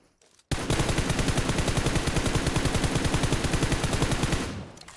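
Sustained automatic gunfire in the battle game PUBG Mobile, a rapid unbroken burst of shots lasting several seconds, loud and close, with no talk over it.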